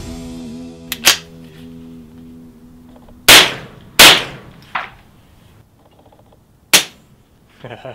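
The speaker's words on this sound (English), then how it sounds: "you can hear literally the noise of the bolt in the spring cycling is louder than the round being discharged" A suppressed Ruger 10/22 semi-automatic rifle fires several sharp, close shots, each a short crack followed by the mechanical clack of the bolt cycling. The shots come at irregular intervals, and a low hum is heard at the start.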